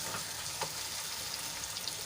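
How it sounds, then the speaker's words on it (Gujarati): Tomato and onion sauté in a pan, a steady close sizzle of frying that runs evenly throughout with a faint stir, no voices. "અને ટમેટું આપણું સોફ્ટ થાય ત્યાં સુધી એને સાંતળી લઈશું"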